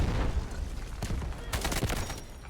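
Rapid bursts of G3 rifle fire in the video game Delta Force Hawk Ops, a single crack followed by a quick string of sharp shots over a steady background of game noise.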